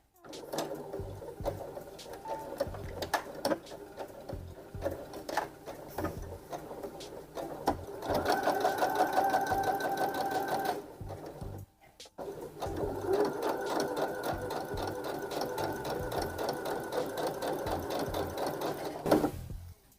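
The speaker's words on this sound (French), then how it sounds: "on va coudre de là jusqu'ici" A sewing machine stitching a skirt slit runs in rapid, even mechanical bursts with a brief pause midway, close and moderately loud, with no voices.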